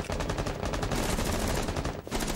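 Rapid automatic gunfire in a first-person shooter video game, a loud dense burst of shots running almost continuously before a short break near the end.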